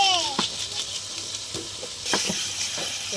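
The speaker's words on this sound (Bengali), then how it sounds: "মশলাটা ভালো করে আমি কষে নেব" Masala of onion, ginger-garlic paste, chili and sour curd sautéing in a pan, a steady soft sizzle broken by scattered scrapes and taps of a stirring spoon, with faint talk in the background.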